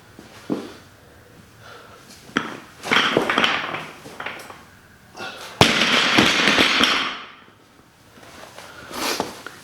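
Urethane bumper plates dropped on a gym floor, several heavy impacts with a dead, short bounce and a noisy rattling clatter, close and loud, with pauses between the drops.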